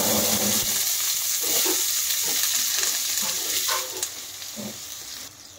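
Onions and green chillies fry in a hot pan, a steady loud sizzle with occasional stirring scrapes, easing slightly toward the end.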